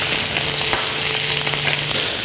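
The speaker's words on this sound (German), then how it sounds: "Ich erwärme Olivenöl in der Pfanne, würze das Maishähnchen mit Salz und Pfeffer und brate die Hähnchenbrust nun mit der Hautseite zuerst" Corn-fed chicken breast seasoned with salt and pepper, frying skin side down in hot olive oil in a pan: a steady, close, dense sizzle with fine crackling pops throughout.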